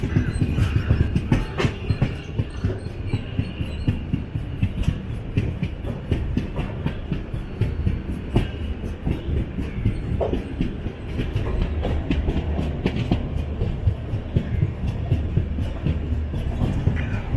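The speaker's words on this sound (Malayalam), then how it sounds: "ഇതാ നമ്മൾ തിരിച്ച് മെയിൻ ലൈനിലോട്ട് കയറുകയാണ്." Kannur Yesvantpur Express, a diesel-hauled train, rolling loudly on rails back onto the main line from a single-line section, with continuous rumble and rapid clickety-clack of wheels over joints heard from aboard.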